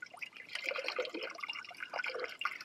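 Water runs from a 12 V hot water shower tap in a continuous, close splashing trickle with small dripping variations, heard alone without talk.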